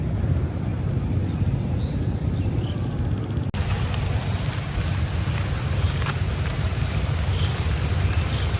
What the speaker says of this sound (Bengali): বলতে বলতে কিন্তু বৃষ্টি শুরু হয়ে গেছে তো বৃষ্টি আস্তে আস্তে ভারী উঠেছে